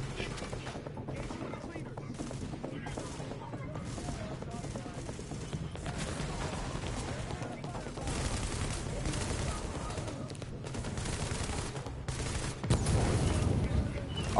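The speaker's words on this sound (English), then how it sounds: "I love this new heavy machine gun that I got" Heavy machine gun fire in The Division video game, rapid dense bursts of shots rattling almost continuously, with a louder stretch near the end, while a voice talks over the gunfire.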